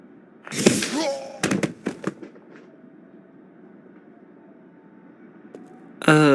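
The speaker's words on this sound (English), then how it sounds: "Hope no one heard the explosion." An explosion in the Lost Horizon video game goes off as a burst of loud cracking blasts and sharp pops, then fades to quiet hum before a voice starts speaking.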